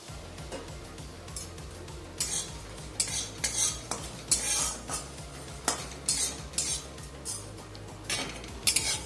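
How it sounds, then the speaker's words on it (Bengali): Whole spices, cumin, dried chili and coriander, are dry roasted in a pan: a spoon scrapes and clinks against the metal in irregular bursts over a faint sizzle, close up and without talk. "শুকনো খোলায় আমি ভাজা মশলাগুলো করে নেব।"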